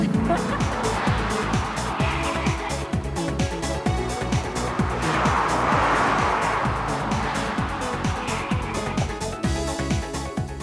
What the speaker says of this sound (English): Now, Michelle, it's your turn with the new Spyder Maserati Cambiocorsa.